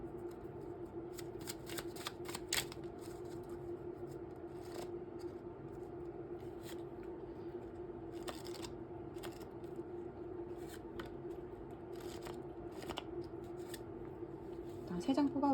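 Tarot cards are shuffled in repeated brisk riffling bursts over a low steady hum, close and fairly quiet, with no voice heard.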